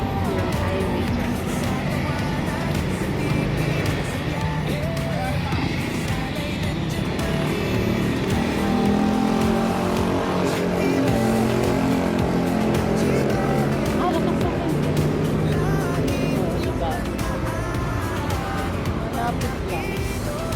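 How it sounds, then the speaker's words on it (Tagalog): Steady highway traffic roar with passing cars along a roadside lined with eateries and a 7-Eleven, heard while walking, continuous and fairly close, with people talking over it. "Ayan na yung highway. Yung highway dyan."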